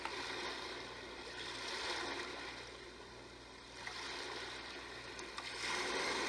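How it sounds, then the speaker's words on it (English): Ocean setting on a Big Red Rooster 6 white noise machine, a steady broadband wash of surf with slow swells rising and falling, continuous and fairly soft, with no talking. "This is the ocean."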